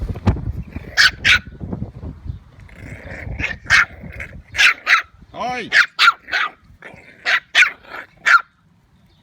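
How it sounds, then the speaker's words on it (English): Puppies barking and yipping as they play, in short repeated bursts that are close and loud, with a person speaking over them. "Puppy playing."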